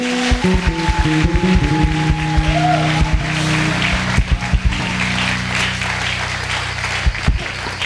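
A church congregation applauding and acclaiming Jesus, loud clapping over sustained organ-like chords and voices, continuing steadily to the end.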